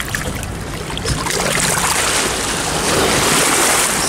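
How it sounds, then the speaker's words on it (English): On the muddy foreshore of the River Thames in snowy weather, a glass cod bottle is rinsed in the river, a continuous loud wash of lapping water and splashing with a gusty outdoor rumble. "Okay, I'm going to give this cod bottle a little wash off here in the river."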